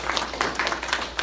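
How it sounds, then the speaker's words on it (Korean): An audience at a forum clapping briefly: a short burst of scattered, uneven hand claps, fairly faint and moderately distant. "여러분 박수 한번 치세요."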